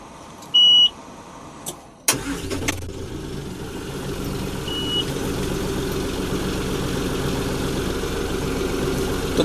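John Deere 5075E tractor with an AC cabin: a short beep and key click, then the diesel engine cranks and catches, settling into a steady, loud idle heard from inside the cab.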